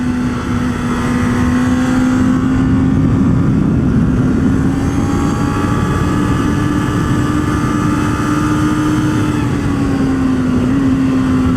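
A Honda motorcycle engine drones steadily and loudly while leaning through corners, its pitch rising and falling gently without a break.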